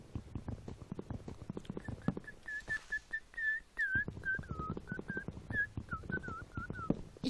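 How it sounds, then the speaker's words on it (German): Someone whistles a wavering, breathy tune of short and drawn-out notes during a Minecraft session, set over keyboard clicks and faint background noise. "Wenn nicht, ich hab grad gepfiffen."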